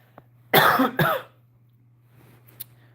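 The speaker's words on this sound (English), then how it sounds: "You think that I came through now since I'm coughing?" Two sharp, close coughs in quick succession over a low steady hum, followed by faint rustling.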